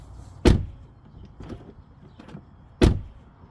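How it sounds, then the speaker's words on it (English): Two solid thumps of a Tesla car door shutting, a couple of seconds apart, with faint rattles and clicks between them, close up. "when you close the door, this is what it sounds like."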